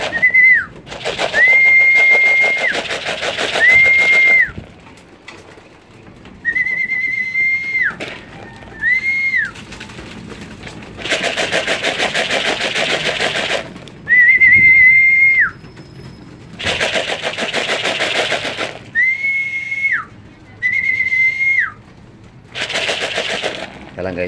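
Racing pigeons on a training toss from Tagaytay/Nasugbu, Batangas, flap and land at their loft in repeated loud bursts of wing clatter, each with a steady whistle-like tone through much of the stretch.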